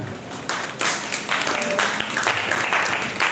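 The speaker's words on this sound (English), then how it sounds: "Please, let's clap for them." Audience applause at a live Shapers Network Africa presentation on social impact projects, a steady wash of many hands clapping with swells over a few seconds, fairly close and without talk.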